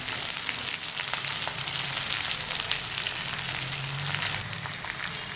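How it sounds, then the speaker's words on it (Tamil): Onions sizzle steadily in hot oil with curry leaves, a dense, even crackle of frying close up that holds at a constant loudness with a few sharper pops, and no one talks. "இந்த வெங்காயம் நல்லா பொரியுது"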